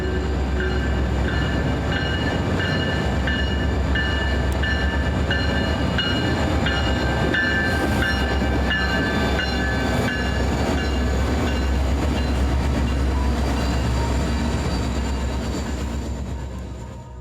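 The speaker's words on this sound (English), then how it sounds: "Following the passing of this train" A long freight train on a Kansas shortline rumbles past nearby behind EMD locomotives, a loud steady roar of wagons with rhythmic wheel clatter and occasional metallic squeals, fading slightly at the end.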